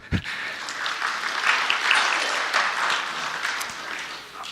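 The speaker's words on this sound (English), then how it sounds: "maybe we can give them a round of applause" An audience at a mindfulness and business seminar applauds steadily after a brief knock at the start, a soft, even patter of many hands that fades slightly toward the end.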